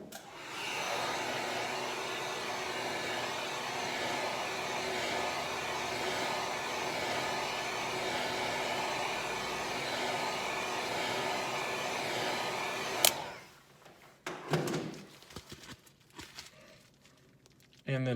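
Heat gun blowing hot air onto an HTC U11 Life phone during screen replacement, a steady loud whooshing roar for about thirteen seconds that cuts off abruptly, followed by quiet handling noises.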